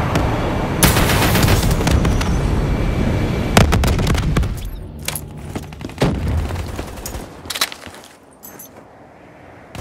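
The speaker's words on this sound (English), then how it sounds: "Friendly Hellstorm inbound." Hellstorm missile strike in Call of Duty Black Ops III multiplayer, a barrage of loud, close explosions and bursts of gunfire that crowd together, then thin into scattered blasts and fade toward the end.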